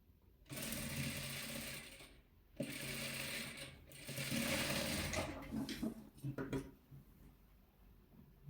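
A sewing machine stitches red patchwork fabric in three bursts of close, steady whirring, with short pauses between runs and a few uneven stops and starts at the end.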